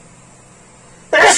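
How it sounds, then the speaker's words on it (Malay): A single sudden, loud sneeze bursts out close to the microphone after a stretch of quiet room hiss, indoors during an RC aviation flight simulator session. "Bersin pula guys."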